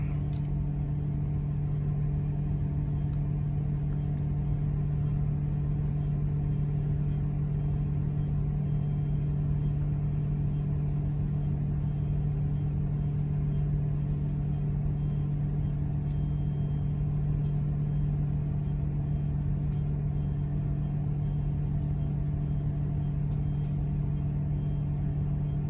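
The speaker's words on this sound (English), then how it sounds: "I'm going to sit and let the air governor fill up and tell him where it actually cuts out." A California school bus with a dual air brake system idles with a steady low engine drone and hum, continuous and unchanging while the air compressor builds pressure.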